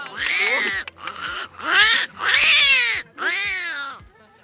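A man imitates cats fighting over food with loud, close, wailing yowls and meows in four or five drawn-out bursts separated by brief pauses, sounding like snarling feline caterwauling.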